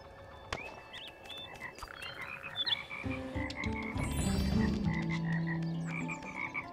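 Frogs croaking in the video game Toki Tori 2, a dense chorus of repeated croaks layered over chiming game music and bright effect tones, with no talking.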